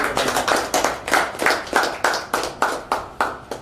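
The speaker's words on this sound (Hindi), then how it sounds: "एक जोरदार तालियां हमारे पंडित" Rhythmic clapping at a health and wealth awareness program, about a dozen loud, evenly spaced unison claps from a group, close and with no talk.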